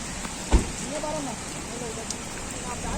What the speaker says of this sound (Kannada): ಫುಲ್ಲು ಮಳೆ ಇದೆ.